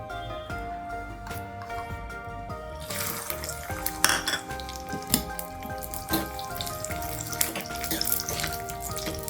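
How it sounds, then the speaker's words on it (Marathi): Dry fruits fry in ghee for coconut rice, giving a continuous sizzle with occasional utensil clinks and stirring while a steady background hum runs underneath. "आपण हे ड्रायफ्रूट तुपामध्ये तळून घेऊ"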